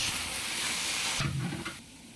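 Chicken and cabbage are stirred in a hot pan for Chinese fried rice, a steady sizzle with scraping stir noises and a brief louder clatter near the middle.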